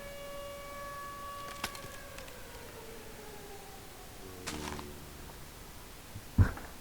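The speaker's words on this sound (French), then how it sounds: "Pourquoi elle a lancé sa sirène?" Siren Head's siren wails in a horror video game set in fog, with sustained tones sliding downward over several seconds, punctuated by a few sharp hits and a loud thump near the end; no talking.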